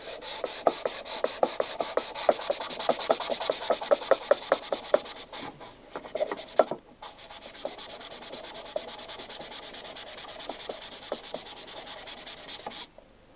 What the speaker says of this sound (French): on va les effacer en mettant un petit coup de ponçage.